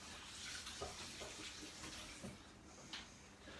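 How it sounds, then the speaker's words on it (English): Running tap water splashes steadily over hands being washed at a kitchen sink during a cookery class, a continuous near hiss with small splashy bursts. "Wash your hands."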